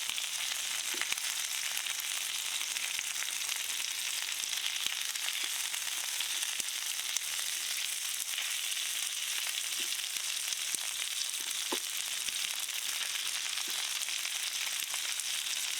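Crumbed meatballs seasoned with thyme fry in a pan with a steady, close hiss and sizzle, dotted with small pops and crackles throughout, and no voices.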